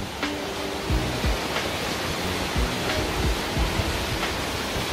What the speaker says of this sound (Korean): 저기 폭포 봐요, 저기.